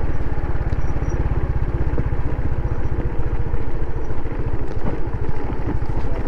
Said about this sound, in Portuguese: Tem um trator ali à frente.